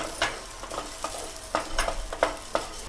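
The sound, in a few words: dry-roasting rice in a pan while stirring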